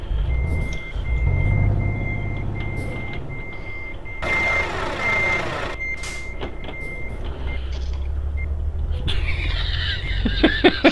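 A reversing truck gives a steady run of high, evenly spaced beeps over a low engine rumble, followed by a burst of hissing air and later a few sharp clicks.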